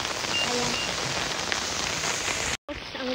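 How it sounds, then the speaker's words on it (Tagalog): Heavy rain pours steadily onto a surface outdoors, a dense continuous hiss that holds loud throughout, cutting out briefly near the end before resuming. "Wait lang guys kasi umuulan."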